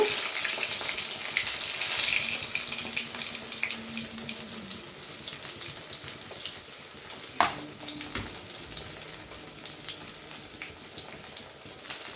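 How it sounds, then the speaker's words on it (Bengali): Fish pieces shallow-frying in a pan give a steady, close hiss and sizzle throughout, with one sharp clatter partway through and no talking. "এই একইভাবে বাকি মাছগুলো আমরা ভেজে নেব"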